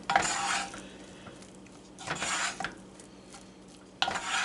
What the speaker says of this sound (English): And then I'm going to add my bread cubes. And I'm just going to fold this in